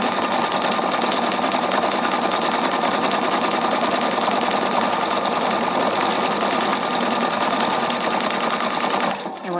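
A Brilliance 75Q sewing machine stitches a decorative pattern, a loud, steady, rapid mechanical hum and clatter running without a break before stopping at the very end.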